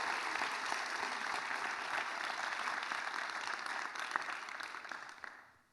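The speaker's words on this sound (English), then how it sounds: "Can we give her another round of applause?" Sustained audience applause at a panel discussion, a dense, even wash of many hands clapping that holds steady for several seconds before fading out at the end.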